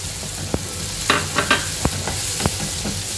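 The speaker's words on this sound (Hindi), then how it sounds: "इसमें हम डाल देंगे हमारे बॉईल किए हुए छोले।" Boiled chickpeas stirred into a pan of frying dry masala for restaurant-style chole, a constant close sizzle with several sharp scraping clacks of a spoon against the pan, no talk.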